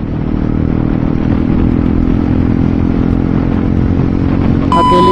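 Yamaha R15 motorcycle fitted with an Akrapovic exhaust, ridden solo: a steady, loud engine drone runs throughout with a rough low rumble, rising slightly in tone near the end.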